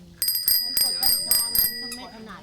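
A bicycle-style bell is pressed repeatedly, giving about six bright metallic rings in a quick irregular rhythm, close and loud, with faint voices in the background.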